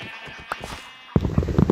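Sheep bleating in the Minecraft video game, a few short game-sound calls over quiet background, followed by a louder, busier burst of sound near the end.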